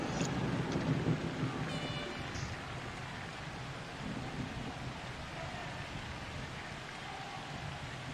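Rain and rumbling thunder from the weather effects of the Blood Bowl video game fill the background, a steady downpour hiss with low rolls, heard alone without talk.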